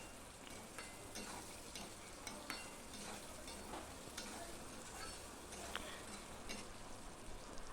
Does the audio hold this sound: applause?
no